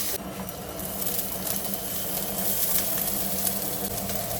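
Ginger and garlic frying in hot oil in a pan for a Kerala crab curry, a steady close sizzle with bright hissing and faint crackle throughout, no voices.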